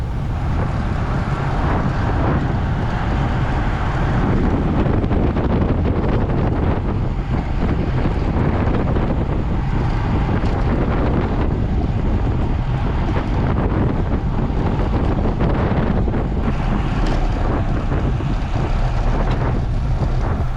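Strong headwind buffeting a rider's microphone during an amateur bicycle road race, a constant loud low roar and rumble lasting throughout without talk.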